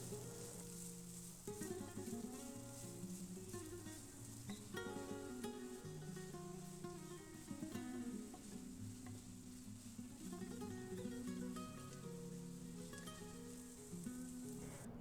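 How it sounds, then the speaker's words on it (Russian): Onion sizzles quietly in a frying pan, a soft steady crackle under background music, faint and continuous throughout. "Добавьте лук на сковородку"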